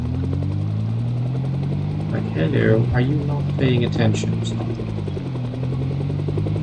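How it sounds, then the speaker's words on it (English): Helicopter circling overhead in the video game Project Zomboid, a steady low rotor drone that runs throughout while a person talks over it. "How long can one helicopter stay flying around"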